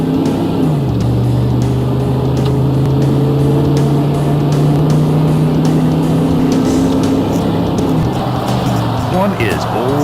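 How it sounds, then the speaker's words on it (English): A car with a 4L80E automatic transmission running at three-quarter throttle, its steady engine drone stepping down in pitch as gears change. One shift comes early and another near the end, loud and close throughout. "Now try some upshifts at 3/4 throttle to see how the shifts get firmer with throttle"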